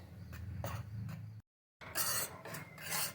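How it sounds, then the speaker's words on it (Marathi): Water chestnut flour dry roasting in a pan, with a spoon or spatula rasping and scraping against the pan in short strokes, close and fairly loud, with a brief gap of silence midway. "आता याला कोरडंच भाजून काढायचं आहे आपल्याला"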